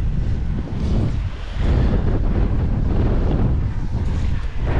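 Strong wind buffeting the microphone on a fishing boat near a bridge in the Florida Keys, a loud continuous low rumble with water sounds mixed in.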